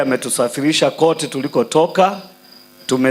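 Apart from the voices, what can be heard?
No everyday noises stand out.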